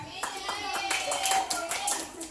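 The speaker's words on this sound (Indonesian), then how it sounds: "Malah tepuk tangan." Children clap their hands during a storytelling session, a run of quick, fairly close claps under ongoing talk from a storyteller.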